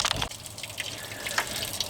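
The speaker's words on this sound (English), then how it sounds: "Just let the hose run a little bit, get it all flushed out." Water gushing from a garden hose to flush out the radiator of a Jeep Cherokee 4.0 during a water pump repair, a steady splashing and trickling stream running throughout, with a brief thump near the start.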